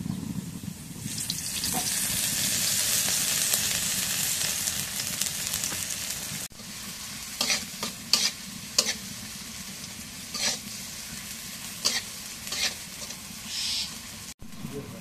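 Spice paste fries in oil in a pan with a sustained sizzling hiss. After a sudden cut, quieter frying continues, broken by repeated scraping and stirring clatters and a few sharp knocks.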